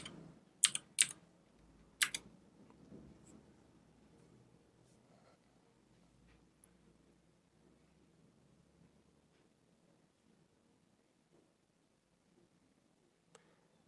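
Computer keyboard keys tapped to type a command, a few sharp close clicks near the start followed by a long near-silent stretch with faint scattered taps.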